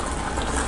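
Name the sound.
mutton kuzhambu boiling, water reducing in pot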